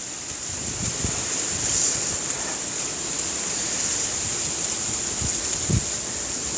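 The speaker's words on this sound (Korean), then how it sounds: "오, 바람이." Wind blows outdoors during a barefoot walk, a constant broad rushing wash with faint low gusts and buffeting against the microphone, steady and unbroken, with no talking.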